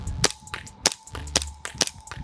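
Army Armament R603/R604 gas blowback airsoft pistol, a full-metal-slide hi-capa, fires five sharp, snappy shots at an even half-second pace, each a crisp crack with a metallic slide clack, close and loud.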